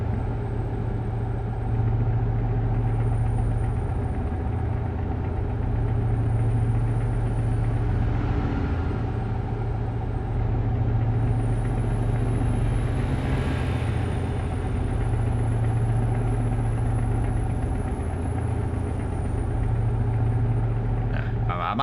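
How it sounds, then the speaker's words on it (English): Heavy truck engine idling in Euro Truck Simulator 2, a steady low gurgling rumble that holds throughout at an even level, with a faint high whine riding above it. "I just want to listen to that engine just gurgle all the time."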